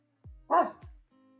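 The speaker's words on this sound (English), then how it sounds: "The neighbor's dog is excited" A neighbor's excited dog lets out a single sharp bark with a short whimpering yip after it, heard nearby and fairly loud in an otherwise quiet outdoor setting.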